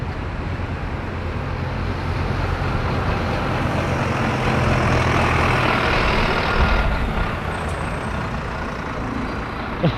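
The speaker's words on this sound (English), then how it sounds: "there was a stagecoach service van, and I just wanted to get a shot of it" A Stagecoach service van rumbles past at close range on a road, its engine roar rising and falling in a steady wash of traffic noise.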